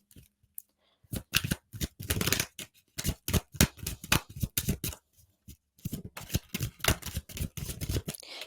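Tarot cards being shuffled close up in quick bursts of crisp riffling clicks, pausing briefly between rounds, with no voices.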